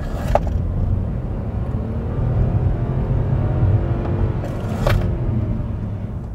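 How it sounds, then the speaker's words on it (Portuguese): A Kia Stonic 1.0 turbo hybrid runs steadily over a speed bump, its low engine rumble and road noise continuous, with two brief thumps from the wheels striking the bump. "Vou passar num quebra-mola aqui e acelerar um pouquinho para vocês separarem"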